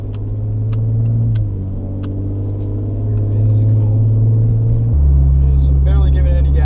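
Ford Explorer ST with a cat-back exhaust cruising on light throttle, a steady deep exhaust drone and engine hum inside the cabin that shifts pitch slightly as it holds speed, with faint ticks and whistles on top.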